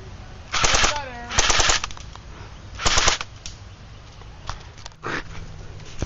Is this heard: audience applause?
no